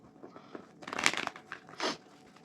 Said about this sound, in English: Now I need to shuffle real good